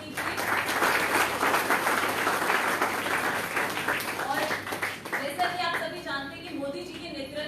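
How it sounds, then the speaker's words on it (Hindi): Sustained applause from an audience at a BJP party gathering welcoming state president Adesh Gupta, dense steady clapping throughout that thins slightly toward the end with some voices mixed in. "उनका तालियों से स्वागत कीजिए"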